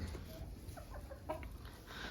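Chickens give soft, low clucks inside a backyard coop, a few scattered short calls at moderate distance over a quiet rumbling background.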